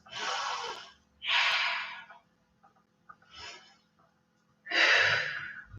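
Slow, deep breaths during a chair pose yoga flow, each inhale and exhale close and audible, with long hissing exhalations separated by short quiet pauses.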